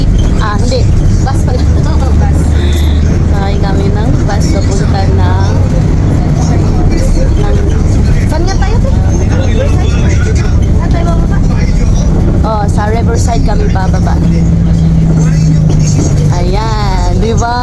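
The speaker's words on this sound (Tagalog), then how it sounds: "Sakay kami ng jeep." Riding a jeepney through heavy Quezon City traffic: a steady loud engine rumble and road noise fill the whole stretch, with people talking and calling out over it.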